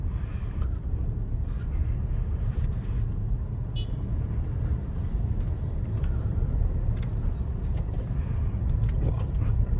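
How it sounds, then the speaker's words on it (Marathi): A 2025 Tata Harrier SUV on the move, its refined engine and road noise forming a steady, even low drone inside the cabin for the whole stretch, with no voices over it. "जबरदस्त रिफाईन इंजिन तुम्हाला मिळतं"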